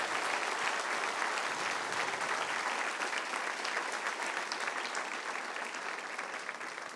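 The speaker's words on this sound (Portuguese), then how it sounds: "Se vai aplaudir, aplauda forte." Loud, dense applause from a church congregation at a Quadrangular service in Brazil, sustained for the full stretch and tapering only slightly toward the end.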